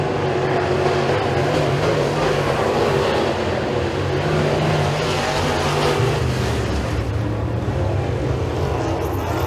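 Rush Late Model race cars roar around the Eriez Speedway dirt oval during a heat race, a loud continuous engine drone heard at a distance with steady crowd-level ambience and no clear speech.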